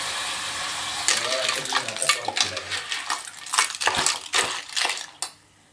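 Clams dropped into a hot cooking pan for Malvani dry clam masala, clattering shells and a sizzling, crackling hiss in quick bursts, then a sudden stop.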